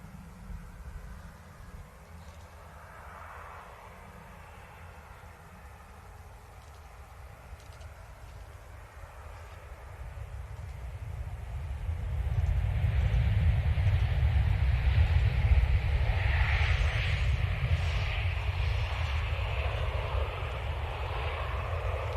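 An airliner from Jeddah in a 2024 National Day livery arrives at Manchester Airport runway 23L, a broad low engine roar that swells from a distant rumble to a loud, sustained rush about halfway through.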